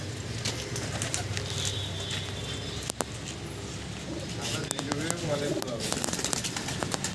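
Pigeons cooing softly in a loft of fancy breeds, low gentle coos fairly faint behind someone talking, with occasional clicks and a brief flutter.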